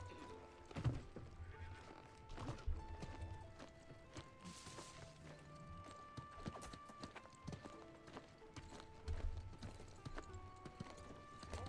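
Horse hooves clip-clop steadily in the New World video game during an El Dorado war, a continuous rhythmic trot up close, with occasional whinnies and bleats mixed into busy game ambience and music.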